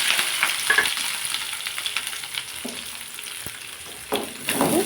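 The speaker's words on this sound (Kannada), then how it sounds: "ಚೆನ್ನಾಗಿ ಸ್ವಲ್ಪ ಫ್ರೈ ಆಗಿ ಈರುಳ್ಳಿ ಎಲ್ಲ." Onions, green chillies and dried red chilli fry in a pan: a steady close sizzle with soft stirring scrapes, and brighter crackling bursts toward the end.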